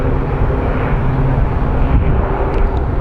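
A Denver Air Connect airplane at Phoenix Sky Harbor airport gives a steady, loud engine roar that holds evenly throughout without a break.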